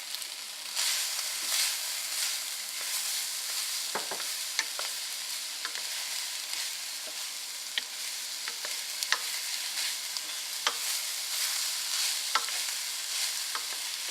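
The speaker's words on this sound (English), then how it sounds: "get them all nice and sauteed, as it were" Vegetables sauté in a pan with a continuous close sizzle, broken by scattered clicks and scrapes of stirring throughout.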